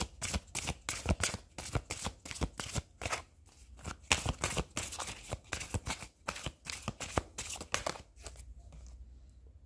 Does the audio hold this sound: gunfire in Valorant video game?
no